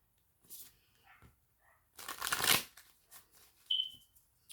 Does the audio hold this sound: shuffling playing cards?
yes